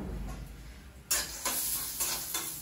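Peanuts fry in a pan, starting as a faint hiss, then rising into sharp, close sizzling bursts as they are stirred, with no talking.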